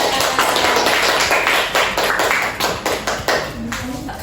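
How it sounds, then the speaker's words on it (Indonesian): A classroom of students applauds a student group, a dense patter of many hands clapping at once that stays steady for several seconds before thinning into scattered claps near the end. "Oke, kita beri aplaus dulu."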